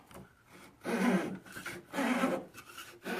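A handsaw cuts through wooden front door interior trim held in a craft miter box, making rhythmic rasping back-and-forth strokes, close and fairly loud, with brief pauses between pushes.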